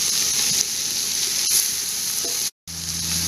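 Onions sweating in a camp oven for braised steak and onion, a steady close sizzle with faint stirring, one brief cutout partway through and no talk.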